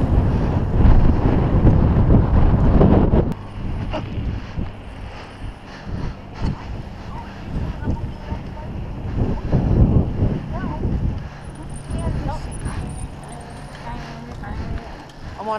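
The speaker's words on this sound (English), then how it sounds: "Fucking windy." Strong, cold wind buffets a microphone outdoors during a winter pedal-bike group ride on Long Island, giving heavy rumbling gusts that rise and fall, with people talking at times.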